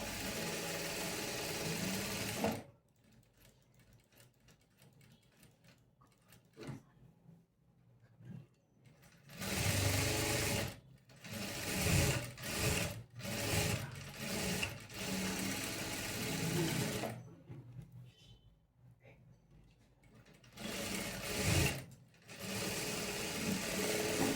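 A sewing machine stitching darts on a blouse runs in long close bursts of steady mechanical whirring, broken by short pauses where the machine stops.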